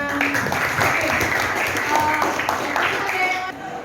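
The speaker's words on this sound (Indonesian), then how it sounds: "tepuk tangan." A group claps at the end of a teacher's classroom presentation, moderately loud and continuous for a few seconds, with a voice speaking through it.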